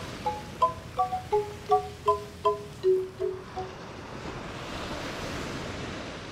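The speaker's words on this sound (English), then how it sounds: "In the beach restaurant, you will be enchanted by the sound of the sea." Sea waves at a beach in Bali: steady, soft wash of surf that swells toward the end, following a short run of melodic chime-like tones at the start.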